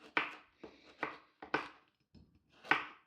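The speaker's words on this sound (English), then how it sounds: "So first I am going to go ahead and chop these guys into little rings" A knife chops carrots into rings on a cutting board, about six distinct close-up chops in an uneven rhythm, with no voice.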